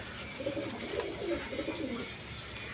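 Pet pigeons cooing nearby, soft repeated rolling coos overlapping one another against light background noise.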